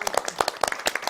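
A studio audience at a televised Korean Bible class gives a short burst of applause. The claps come close and distinct, in a quick uneven patter from a small group, with no talk.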